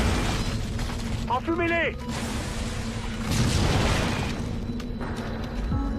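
Grenade blasts in the Halo Wars video game, low booming bursts mixed with mechanical game noise, heard under a French-speaking voice calling out in-game orders.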